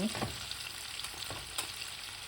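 Giant freshwater prawns fry with onions in a pan. A soft, low sizzle runs throughout, with a few faint stirring scrapes over the brief stretch.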